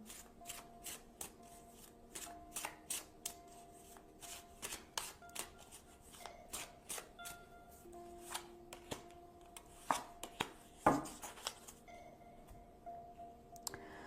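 Tarot cards are shuffled and drawn close by, soft riffling and sharp flicking clicks in uneven bursts, fairly quiet, with no voices.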